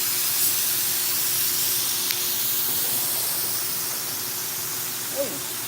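A spray gun laying high-build primer onto car body parts, a steady close hiss of spraying that holds through and eases slightly near the end, with a faint brief voice sound.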